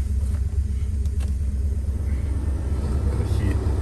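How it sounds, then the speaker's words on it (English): A heater blower motor runs in a 1963 Chrysler Crown Imperial, a steady low whooshing rumble with faint vehicle hum, continuous and close throughout. "Blower motor works."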